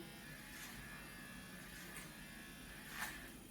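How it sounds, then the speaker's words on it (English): Electric hair clippers run in a clipper-over-comb men's haircut, a steady faint buzzing hum with slight swells as the blades pass through the hair. "you can do a clipper over comb action there"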